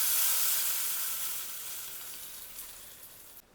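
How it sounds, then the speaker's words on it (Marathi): A tempering of hot oil sizzles in a pan for chutney, a bright, steady hiss that starts loud close up and slowly fades before cutting off abruptly. "छान परतून घ्यायची फोडणी."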